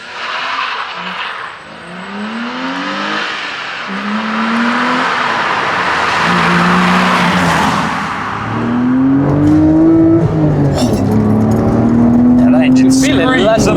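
A BMW Z3 engine revs repeatedly close by, rising and falling in pitch through the gears with rasping tone, while someone talks over it.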